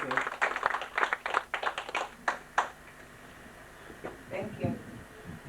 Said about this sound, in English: Please give her a big round of applause, Miss Joseph.